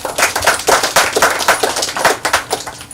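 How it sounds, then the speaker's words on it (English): Scattered applause from a small audience at a sod-turning ceremony on a university campus, close and moderately loud, uneven individual claps blending into a steady patter with no one speaking. "Let's give him a round of applause."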